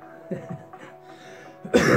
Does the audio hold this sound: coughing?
yes